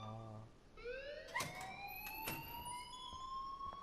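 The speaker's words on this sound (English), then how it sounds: "please turn off that alarm since that's your job" An alarm sounds in the video game Life is Strange, a rising electronic siren-like wail with steady tonal sweeps and brief clicks, moderately quiet and heard alone without talk.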